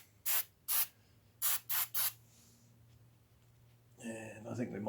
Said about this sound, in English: Just going to give it a bit of a spray in there with some parts cleaner